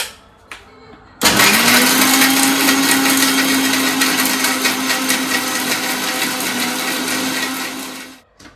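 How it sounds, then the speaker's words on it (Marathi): A kitchen mixer grinder whirs into life with roasted coconut inside, holding a loud, steady, high motor whine for about seven seconds before cutting out abruptly. "चला, आता मी मिक्सरला लावून घेते."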